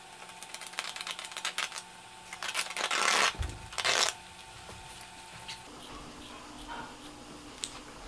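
Scissors snip straight down through a lightweight DIY door panel sheet: a few rough crunching cuts bunched in the middle, loud and close, with quieter handling rustles around them and no talking.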